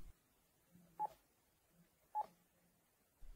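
Two short keypress beeps about a second apart on a Panasonic KX-TES824 phone system, each crisp and brief against near silence.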